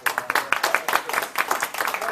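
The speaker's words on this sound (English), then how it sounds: "Let's give them a round of applause." Audience applause at a meeting, a short burst of brisk, fairly loud clapping from a group in a room, with individual claps audible in an uneven patter.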